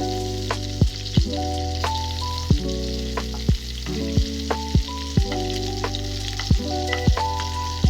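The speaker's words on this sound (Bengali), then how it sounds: "তো বেগুনটাও ভালো করে ভেজে নেব।" Eggplant slices sizzle and crackle steadily in hot oil in a pan for a Bengali hilsa and mustard curry, with a continuous fry hiss broken by periodic sharp clinks and scrapes of a utensil stirring; no voices.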